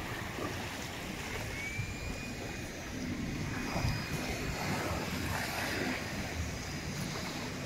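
Steady wash of sea surf at Anapa beach near the Anapka river, a continuous broadband roar with wind noise and no clear individual breakers, heard alone without talk.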